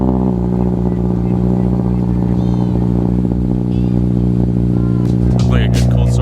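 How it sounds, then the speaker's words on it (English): A car engine fitted with an Injen Evolution intake cold-starts and settles into a loud, steady idle with dense low rumble, with some clatter and faint talk over it throughout. "Like a good cold start to annoy the neighbors."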